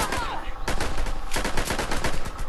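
Rapid video game gunfire rattles in close bursts, a burst of shots followed by a second, longer volley, loud and sharp.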